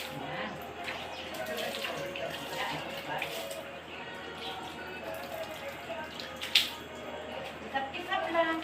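Water runs and drips while sand is rinsed off, a light irregular splashing with a few louder spatters, near and fairly faint.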